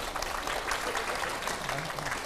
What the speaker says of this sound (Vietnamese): em vỗ tay nhiệt tình